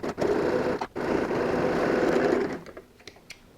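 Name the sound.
sewing machine stitching side of laptop case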